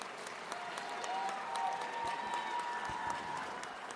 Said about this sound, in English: please join me in showing our deepest appreciation with a round of applause